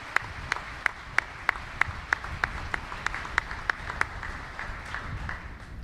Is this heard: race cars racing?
no